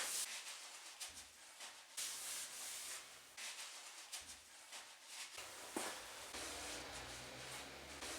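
Dirty grease being wiped and rubbed off a wiper shaft part from a Mercedes 230 GE, faint repeated scrubbing strokes in short bursts, close by.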